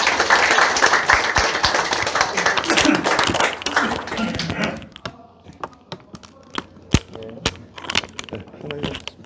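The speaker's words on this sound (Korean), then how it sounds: "박수로 맞아주시기 바라겠습니다." An audience at a political forum applauds to welcome a speaker, with dense clapping for the first half that thins to a few scattered claps and taps afterward.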